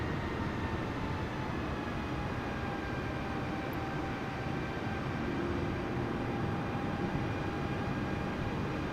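An Airbus A320neo taxiing in Microsoft Flight Simulator 2020, a steady droning jet-engine hum with faint whining tones, constant and unbroken throughout.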